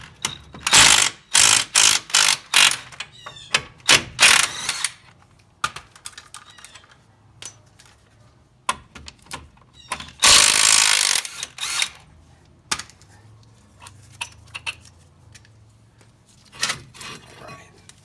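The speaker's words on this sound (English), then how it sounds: "Next, we'll go ahead and remove the two 17mm bolts that hold on the caliper bracket." A ratchet wrench loosening the 17mm caliper bracket bolts on a 2013 Hyundai Elantra during front brake work, with loud bursts of rapid clicking, a long ratcheting run midway, and scattered tool clanks, close by.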